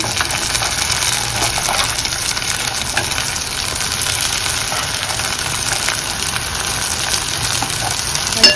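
Onion browned to a reddish colour sizzles in a pan as tomato goes in for a cashew curry, a steady, even frying hiss that runs throughout with no talking.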